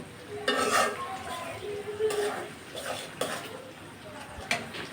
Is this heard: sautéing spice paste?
yes